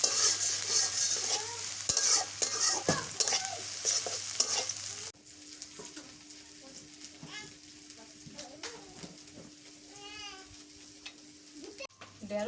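Mustard oil sizzles loudly in a pan for about five seconds, then the frying drops to a quieter, steady hiss while a voice talks faintly nearby.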